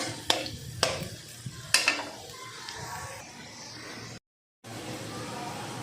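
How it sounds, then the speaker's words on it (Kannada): Dried red chillies and garlic frying in a pan for a palak dish: a soft sizzle with a few sharp clinks of a spoon against the pan, under someone talking, followed by a brief silence and steady frying hiss. "ಈಗ ಮೆಣಸಿನ್ಕಾಯಿ ಮತ್ತು ಬೆಳ್ಳುಳ್ಳಿ ಫ್ರೈ ಮಾಡ್ಕೊತೀನಿ"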